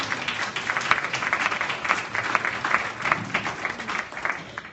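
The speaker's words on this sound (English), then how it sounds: "Give yourselves a round of applause." Sustained applause from the audience at an education summit panel discussion in Louisville, Kentucky, a dense steady clapping from many hands close by.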